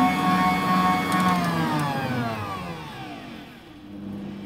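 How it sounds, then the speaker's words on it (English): An electric hand mixer whips egg whites toward stiff peaks, a steady whirring motor hum that holds close and loud and then eases slightly lower as it runs, with no talking. "you see how much the egg white is starting to clump up on my mixer"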